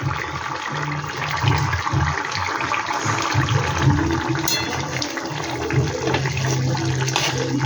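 Katla fish curry boiling vigorously in a pan, a steady, dense bubbling and rushing hiss that stays even and close throughout.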